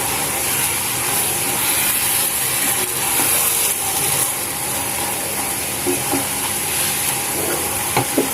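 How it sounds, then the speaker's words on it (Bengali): Prawns being stirred into prawn biryani in a pot: a steady sizzle and hiss of frying with soft scraping of a spoon and a few clacks against the pot near the end, loud and close. "এ পর্যায়ে মাছগুলো দিয়ে দিব। সুন্দরভাবে নাড়াচাড়া করে নিব।"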